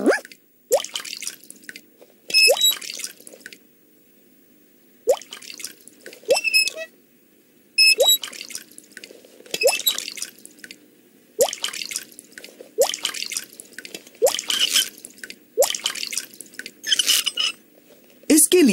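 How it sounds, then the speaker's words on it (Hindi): A cartoon water tap drips over and over with bright, plinking drops in an irregular rhythm. Short gaps fall between the bursts, and several drips sound close and fairly loud. "हमारा नल टपक रहा है।"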